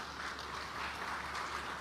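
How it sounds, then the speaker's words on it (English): Audience applause at a Kilifi international investment conference, a steady distant wash of clapping from a large crowd, heard alone. "Another round of applause for the MOUs"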